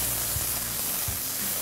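Malaysian fish curry paste frying in a pan, a steady broad sizzle and hiss with a couple of faint low knocks, close and even throughout.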